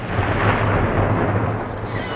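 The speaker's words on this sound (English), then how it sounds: "Lightning in a snowstorm, folks." Thunder from lightning during a snowstorm in Vancouver rumbles as a steady, loud, low roll with a dense wash of precipitation noise over it.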